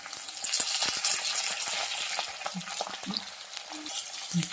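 Onions frying in a pan with garlic, dried red chillies and curry leaves, a steady close sizzle broken by stirring clicks and scrapes from a spoon and a few brief spattering pops.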